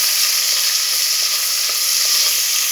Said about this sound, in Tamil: ரெண்டு பெரிய சைஸ் வெங்காயம் போட்டுக்கலாம். வெங்காயம் நல்லா வதங்கட்டும்.